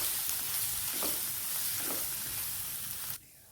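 Coriander and pepper powder roast with salt in a hot pan for a Kerala-style egg curry, giving a steady, dense sizzle with a couple of soft stirring swells before it cuts off abruptly near the end.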